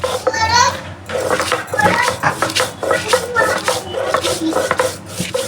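Dried fish being ground with salt by hand on a grinding stone, a steady rhythmic rasping and rubbing close up, with a voice talking over it.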